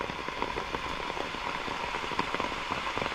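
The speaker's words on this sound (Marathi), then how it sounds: "पाऊस बऱ्यापैकी पडतो आहे कंटिन्युअसली चालू आहे" Heavy rain pours steadily on a river in the Konkan region, a dense continuous patter of drops hitting a surface with no pauses.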